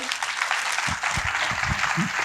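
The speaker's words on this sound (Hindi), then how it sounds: "तो सर पहले तो जोरदार तालियां इस चीज के लिए" Steady applause from a talk show audience fills the clip, dense and continuous with a few louder claps standing out near the end.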